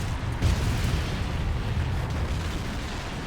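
A nuke cannon shell explodes in the real-time strategy game Generals Evolution, a sustained loud rumbling blast with deep low-end boom that holds steady for about three seconds.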